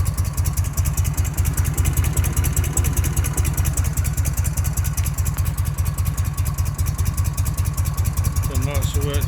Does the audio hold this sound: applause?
no